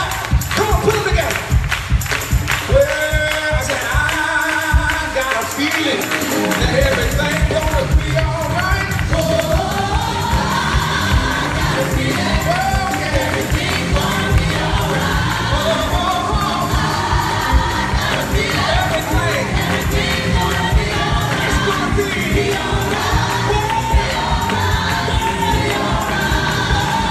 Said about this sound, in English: Put your hands together like this. I need you to clap.